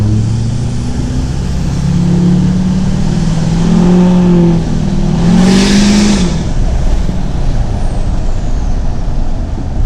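Duramax diesel pickup with a straight 4-inch fully deleted exhaust revs loudly, a deep continuous engine roar swelling up and settling back, with a brief hissing rise midway and no talking.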